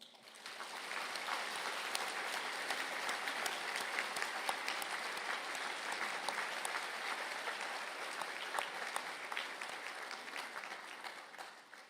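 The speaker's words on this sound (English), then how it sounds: "please stand for a round of applause" An audience at a university conferring ceremony applauds design graduates: dense, sustained clapping that swells in and holds steady for about twelve seconds before easing off slightly.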